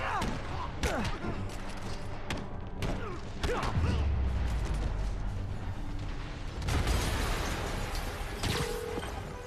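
An explosion in the Marvel's Spider-Man Remastered video game fills the scene with loud, dense rumbling booms and crackling debris, with heavy low-end surges and a sustained, noisy bed of game effects.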